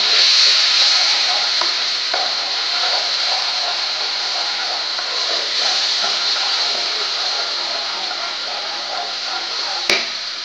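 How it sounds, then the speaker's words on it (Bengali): Tomato paste being stirred in a frying pan for a paneer curry, giving a continuous soft sizzle with faint scraping and light clicks, ending in one sharp knock near the close. "পেস্ট করা টমেটো ভালো করে নাড়াচাড়া করব।"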